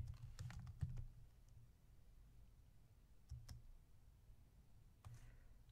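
Brief clusters of light key clicks from typing on a computer keyboard, faint and close, separated by quiet stretches over a low hum.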